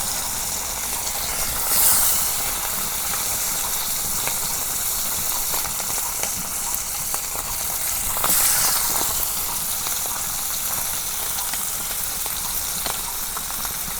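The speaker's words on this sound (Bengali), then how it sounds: "নদীর মাছ তো অনেক সুন্দর করে মাছগুলো ভাজা নিতেছি" River fish sizzling as they fry in hot oil in a village kitchen, a loud, close, continuous crackling hiss with brief surges of spitting, heard alone without talk.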